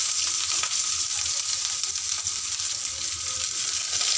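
Onions, chana dal and curry leaves frying in oil for a carrot fry, a steady close sizzle with faint stirring that holds unbroken for the whole stretch, no voices.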